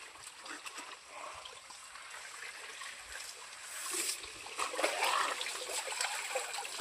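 Cold water trickling and splashing at an outdoor bathing spot, a steady close flow that swells louder in the second half with brief splatters, no talk over it.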